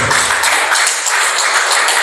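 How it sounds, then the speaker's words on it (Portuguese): Many worshippers in a church applaud in praise, a thick, continuous roar of clapping hands that stays loud and even throughout. "Essas palmas não são de pessoas que têm certeza."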